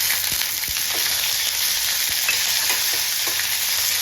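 Cumin seeds fry in hot oil in a pan, producing a loud, continuous sizzle dotted with small pops and a few stirring taps, heard up close without any voices.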